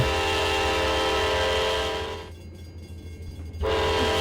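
A Union Pacific freight train in the Trainz Simulator video game rolls along with a steady, loud horn-like drone and low rumble, briefly dropping out before resuming at full strength.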